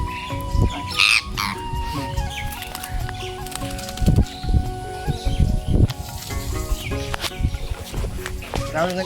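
Two pet birds squawk and cluck in short bursts nearby, with people talking intermittently in the background.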